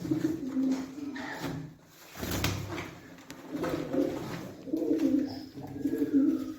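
Racing pigeons from an auction flock coo in soft, repeated bursts close by. A brief pause breaks the calls, which then resume in throaty waves with faint chirps in the background.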